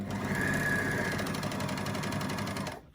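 An overlocker stitches across the lining of a cosmetic bag, a rapid rhythmic mechanical whirring held steady up close for nearly three seconds before stopping abruptly.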